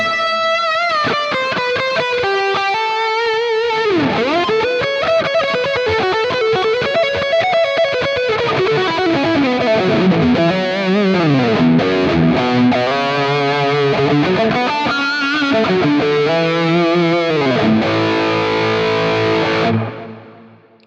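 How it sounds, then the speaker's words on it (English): An electric guitar plays a lead through a Quad Cortex with a chorus pedal and moderate drive, giving a shimmering, sustained distorted tone. Fast runs, bends and vibrato notes ring out continuously and loudly, then the final note fades. "So that's the tones kind of with the chorus pedal."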